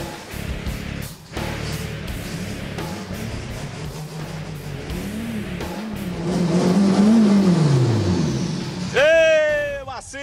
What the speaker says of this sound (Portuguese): Olha só esse motor envenenado, esse gol aqui lindo